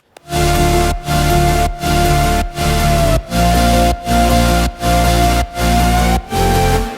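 A loud, sustained synth drop with no LFO modulation, a flat, steady tone chopped into regular pulses by brief silences about every 0.7 seconds.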